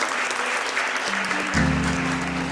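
Guests at a Nepali church wedding ceremony applaud the pastor with a short burst of clapping. Sustained musical tones rise in beneath it halfway through.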